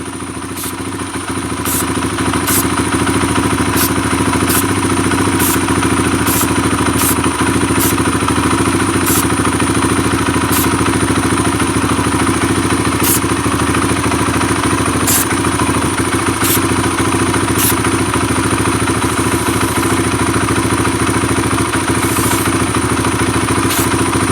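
A Kawasaki KLX140 dirt bike, running lean and started on choke, idles close by with a loud, steady engine drone and a row of regular high ticks, and no voices are heard.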